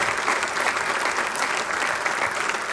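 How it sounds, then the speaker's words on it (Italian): An award-ceremony audience applauds for Eric Cantona at the Premio Navicella Sardegna, a steady, dense wash of many hands clapping throughout, close and full with no voice over it. "Un applauso per Eric Cantona"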